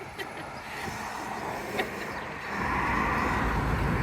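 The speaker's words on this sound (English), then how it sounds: "Pardon the road noise, if there is any." Passing cars on a downtown street near Daytona Beach produce a low, steady road rumble. It swells louder in the last second and a half as a vehicle draws near.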